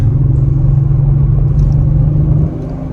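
Audi S4 TDI diesel accelerating hard on a two-lane road to overtake, a loud steady low engine rumble that holds strong before easing off near the end, with no talk.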